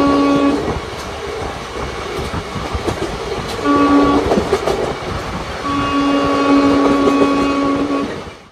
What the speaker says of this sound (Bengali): নির্ধারিত সময়ের আগেই কিন্তু আমাদের ট্রেন ছেড়ে দিল